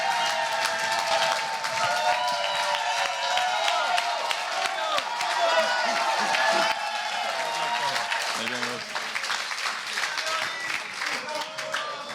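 Wedding guests cheer and applaud loudly for Clive Lennox at a wedding speech, a dense sustained roar of clapping, whoops and shouting that carries on throughout, with voices mixed in.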